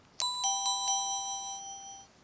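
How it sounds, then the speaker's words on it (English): Chime one from a DOME siren plays as four quick bright electronic strikes in a falling pattern. The ringing tones overlap and fade out together, with no speech. "Here is chime one."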